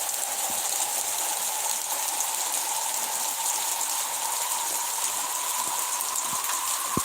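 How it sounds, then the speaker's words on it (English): Steady rain shower on a mountain, an even wash of falling drops with occasional louder drip ticks, continuous and fairly close, no voices. "We have little rain showers like this quite often during the warmer months."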